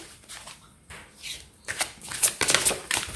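A deck of cards shuffled for a prize draw, with soft riffling at first, then a louder run of crisp, rapid card flutters close by.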